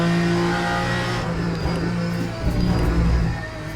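A race car engine in the sim racing game Le Mans Ultimate revs and drones loudly with steady harmonic tones, the pitch shifting as it accelerates and eases off, no voices.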